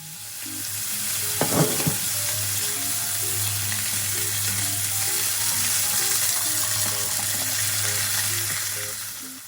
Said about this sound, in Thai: ย่างแป๊บเดียวนะคะ ประมาณ 2 นาทีแล้วก็กลับด้านค่ะ